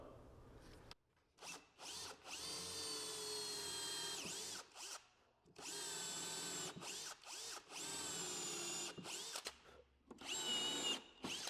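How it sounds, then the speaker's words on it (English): A power drill bores and countersinks screw holes in a reclaimed white oak bench top, whining in repeated bursts of one to three seconds separated by short pauses, close and fairly loud. "We're going to drill and countersink for some screws that will be plugged later on."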